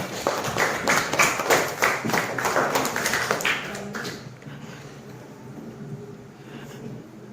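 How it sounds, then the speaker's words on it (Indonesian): A group claps together in a short burst of applause for about four seconds, fairly close and lively, then fades out into quiet room noise. "Oke, aplaus dulu tuh semua."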